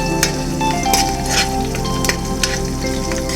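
Green chilies and curry leaves frying in oil in a pan while making a spinach and moong dal dish, a dense crackling sizzle throughout with a few sharp clinks of stirring, close and loud.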